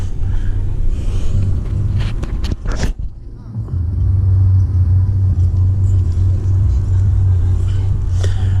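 A motorised blower roars with a steady low drone while clearing sugar ants off gym equipment, briefly dipping and scraping near the middle before surging back at full, close volume.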